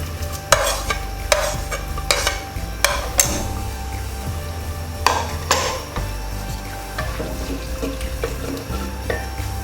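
Chopped onions fry in a pan under a spoon stirring them, with sharp repeated scrapes and clinks against the metal over a continuous close sizzle.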